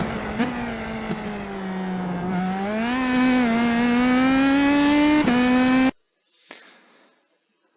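IndyPro2000 open-wheel race car at Laguna Seca in iRacing, engine droning loud and steady with pitch climbing and dipping through gear changes, a few sharp clicks, then cutting to near silence with a faint brief noise.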